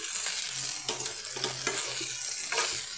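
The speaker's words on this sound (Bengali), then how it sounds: "বাদামি বাদামি হলে ওই রকমইভাবে ভালোবাসেন খেতে ভেন্ডি ভাজা, আমি ওইভাবেই ভাজছি" Sliced okra fries in hot oil until browned, giving a steady close sizzle broken by soft scraping stirs of a spatula in the pan.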